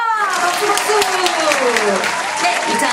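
Applause from a group, dense steady clapping throughout with a person talking over it.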